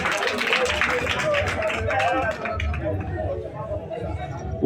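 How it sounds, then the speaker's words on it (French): Concert crowd at a live show clapping and cheering together, a busy spread of applause mixed with chatter and voices that gradually thins out toward the end. "Applaudissez pour vous-même, s'il vous plaît."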